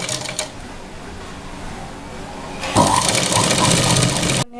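A sewing machine stitches a dart in a blouse, starting after a quiet stretch with a burst of close, fast mechanical whirring and rattling that stops abruptly at the end.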